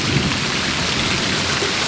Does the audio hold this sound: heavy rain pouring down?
yes